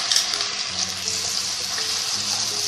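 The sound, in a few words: onion cashew paste sizzling as it is added to hot oil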